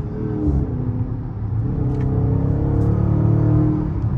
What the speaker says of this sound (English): I just wanted to let y'all hear the little engine